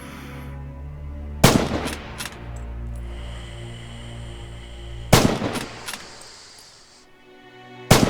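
Three loud rifle shots from Red Orchestra 2: Heroes of Stalingrad, a World War II Stalingrad shooter, ring out at spaced intervals, each a sharp crack trailing into a rumbling echo.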